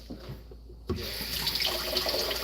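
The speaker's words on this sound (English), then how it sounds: "Fill it up with water." Tap water runs steadily into a container after a brief quiet start, a continuous close splashing rush that fills the rest of the clip.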